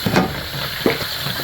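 Hot cooking oil sizzling in a pan, a brief hiss with two soft crackling bursts at close range and no voices.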